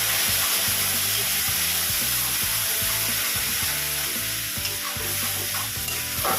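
Spice paste for urad dal dubki frying in a pan over low heat, a dense steady sizzle with rhythmic scraping and stirring strokes of a spoon throughout.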